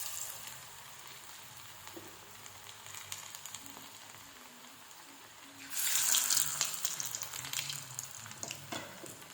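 Vada made from idli batter fries in hot oil in a home kitchen, with a low bubbling that swells into a loud hissing sizzle partway through and then eases off.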